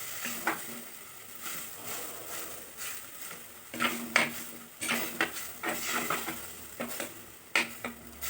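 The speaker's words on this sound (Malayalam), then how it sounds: "തക്കാളി അരച്ചത്, തക്കാളി കൂടെ ഒഴിച്ചു കൊടുത്ത് നന്നായിട്ട് ഇളക്കി കൊടുക്കണം" Ground tomato being stirred into a sizzling pan for a sardine dish, a utensil scraping and clinking against the metal in irregular bursts over a soft, constant frying hiss.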